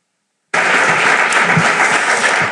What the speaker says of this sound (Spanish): ahora os voy a pedir otro fuerte aplauso para despedirla